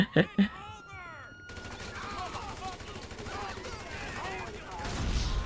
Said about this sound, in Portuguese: O guarda me deu só um tiro de escopeta, pessoal.